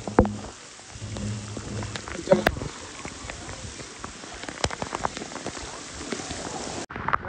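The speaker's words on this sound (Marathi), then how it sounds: "पाऊस फुल पाऊस आहे फुल" Heavy rain at Raigad fort during a cloudburst, a dense close patter of raindrops on surfaces with scattered louder splashes and drips, steady throughout.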